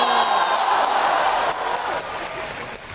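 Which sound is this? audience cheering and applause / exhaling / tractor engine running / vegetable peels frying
audience cheering and applause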